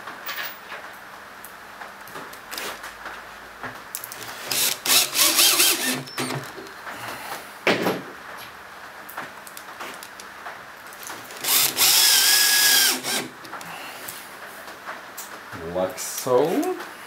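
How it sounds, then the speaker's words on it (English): A power drill drives screws into a homemade acoustic guitar, with two loud whirring bursts of several seconds each, separated by quieter handling knocks and intermittent speech. "put some screws in."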